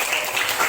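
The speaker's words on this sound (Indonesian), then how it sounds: "tepuk tangan untuk kita semua." A classroom of students claps together in a short, dense burst of applause, close and steady, with no talk.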